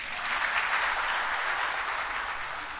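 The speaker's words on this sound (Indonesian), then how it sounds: "Tepuk tangan dong." A church congregation applauding, a dense steady wash of clapping from many hands throughout, evenly loud, with no voices standing out.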